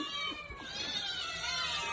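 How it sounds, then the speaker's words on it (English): A cat meows in a short, drawn-out call, fairly close and alone, with no talking over it. "Can all the kitties in the club say meow?"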